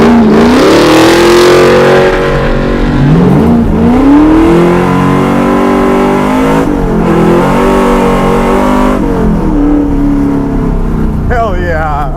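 A 1970 Ford Mustang Boss 427 revs hard while driving, its loud engine note sweeping up and down through several climbs and gear changes. Voices come in now and then under the roar.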